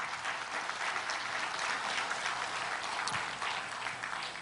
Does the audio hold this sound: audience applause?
yes